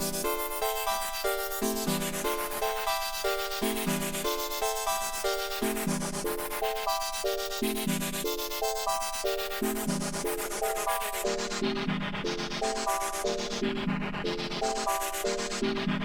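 A CIZZLE synthesizer in noise mode, thickened by chords, plays a rhythmic pattern of repeated pulsing chord stabs with a bright, hissy, buzzing texture, loud and steady throughout with no voices.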